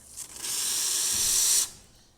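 A short burst of steady hissing and spraying from a Profitec Pro300 espresso machine's hot water outlet rises, holds for about a second, then stops abruptly.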